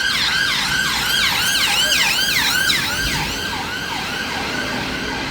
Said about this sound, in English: I'll just let this ambulance pass